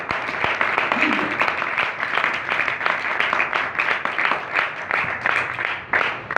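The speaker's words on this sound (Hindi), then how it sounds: "यीशु के बाद जोरदार तालियां।" A congregation at a Hindi-language Christian church service claps vigorously and continuously, with sharp individual hand claps standing out from the crowd and voices mixed in.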